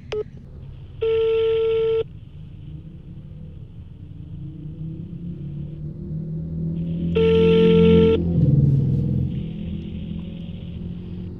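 A phone call to the police public relations office in Cirebon, Indonesia, is rejected, and two loud, long multi-tone beeps come through the line several seconds apart over a low, rumbling hum, with no speech.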